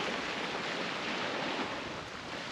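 Sea waves wash onto the shore of the Alboran Sea near Gibraltar on a late-November day, a steady, moderately close roar of surf with a little wind and no talking.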